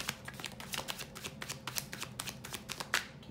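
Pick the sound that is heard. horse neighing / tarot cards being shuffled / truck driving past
tarot cards being shuffled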